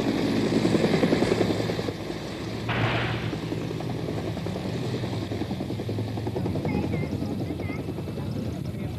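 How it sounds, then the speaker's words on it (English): American military helicopters fly low over the Saigon River in 1967, their rotor chop loud and close at first, then easing slightly and droning on steadily under a broad wash of noise. "And overhead are the American helicopters,"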